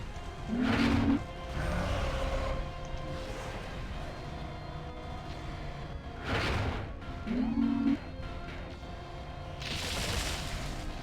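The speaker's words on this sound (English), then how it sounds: "That was a wasted missile shot." Missile launches in the mech combat game Mechwarrior 4 Vengeance, several loud whooshing bursts with booming blasts spaced a few seconds apart over a steady game background rumble.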